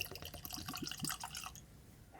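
Kiona Cask bourbon is poured from a bottle into a glass, a close, quiet glugging trickle for about a second and a half, then near silence with a faint clink at the end.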